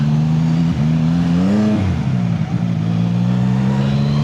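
A CF Moto 750SR sport bike engine drones loud and close, its pitch rising and dipping briefly as gears change, then settling into a steady hum.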